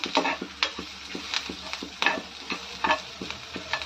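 Ingredients fried in a pan on a gas stove give a steady sizzle, with a repeated, rhythmic scrape and tap of stirring close by and no voices.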